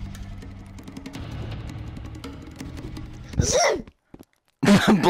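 A single sharp sneeze bursts out loud and close near the end, preceded by muffled murmuring and faint background noise, then a short silence before another voiced burst.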